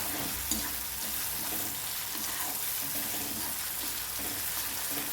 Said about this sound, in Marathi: हिंग टाकून झाल्याच्या नंतर हे छान आपल्याला हलवून घ्यायचे एकदा